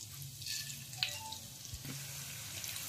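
Asafoetida, cumin and coriander seeds fry in a little oil in a pan, a soft steady sizzle with faint scattered crackles and a light clink.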